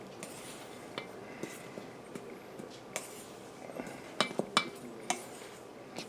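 Dry sugar cookie ingredients being stirred together in a bowl: a spoon taps and scrapes against the bowl in irregular light clinks, busier toward the end.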